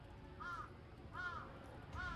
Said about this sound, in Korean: 그 소리는 삼다스도 넘는 까마귀들이 날아가며 내는 소리임을 곧 알아챘다